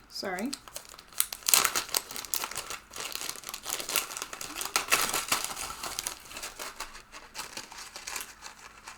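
A plastic bag crinkles loudly and continuously up close as stitch markers are taken out of it, with bursts of sharper rustling, and a voice briefly heard at the start.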